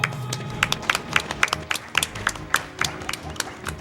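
An event crowd at a speedrunning marathon claps along in a steady rhythm, about two claps per second, sharp and fairly close, over a busy background of crowd murmur and game sound.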